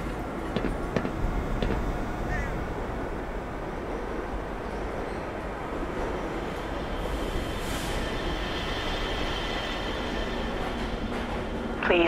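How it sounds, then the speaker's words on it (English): Black Mesa transit system tram from the video game, rolling steadily along its rail with continuous low rumble, wheel clatter and occasional faint squeals, close and sustained for the whole stretch with no talking. "Please keep your limbs inside the train at all times."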